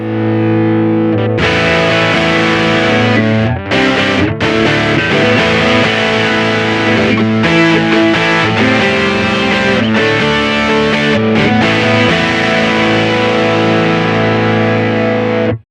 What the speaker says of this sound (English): that sort of very squashed Hex Fuzz sound